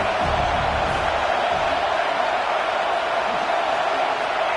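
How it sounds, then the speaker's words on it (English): A large football stadium crowd roars in a steady, dense wash of cheering and noise throughout, with no pauses, in a college game between Texas A&M and USC. "This crowd ready to make its presence known."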